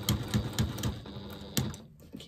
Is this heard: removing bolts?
no